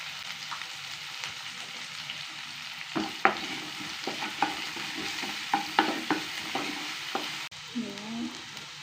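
Onions sizzle in hot oil with salt in a home kitchen as a preparation for mutton gravy, with a low steady frying hiss and a series of sharp spatula scrapes and taps against the pan.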